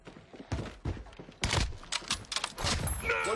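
Rapid, close gunfire bursts in Fortnite's Fortune's Keep, sharp cracks coming in irregular clusters over a busy game soundscape.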